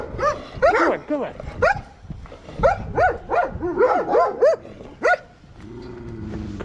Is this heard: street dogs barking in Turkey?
yes